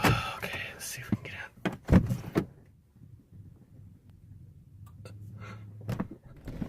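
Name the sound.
frozen door being forced open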